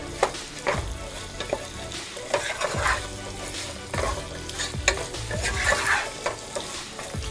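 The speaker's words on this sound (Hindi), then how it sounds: "और अब इसको बहुत अच्छे से घुमाएंगे ताकि हमारी ग्रेवी में अच्छी तरीके से मिक्स हो जाए।" Chicken 65 gravy with fried chicken pieces is stirred in a frying pan, giving a continuous sizzle broken by repeated scraping and clattering strokes of the spoon, close and alone.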